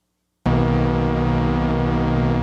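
Sustained synthesizer tone with fast, subtle random LFO modulation, starting abruptly after a short silence and holding loud and steady with rich harmonics and a slight flutter.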